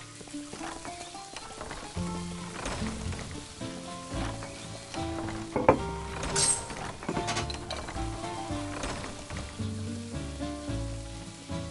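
Food frying in a fryer in the video game Order Up!! To Go, a steady sizzle under layered game music with occasional clinks and bright chimes.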